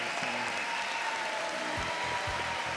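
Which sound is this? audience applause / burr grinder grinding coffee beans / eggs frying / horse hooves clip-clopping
audience applause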